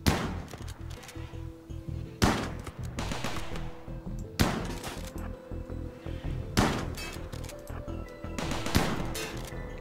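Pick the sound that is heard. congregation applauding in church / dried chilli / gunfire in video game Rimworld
gunfire in video game Rimworld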